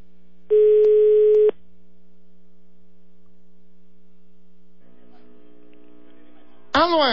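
Phone line during a prank call: one long steady ring tone of about a second, then a quiet hum, faint tones and a brief sweeping burst at the end, with no clear talk.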